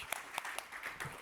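Audience applause at a panel discussion on social dialogue and green transition, a short burst of scattered hand claps at moderate distance, fairly soft and brief with no speech over it.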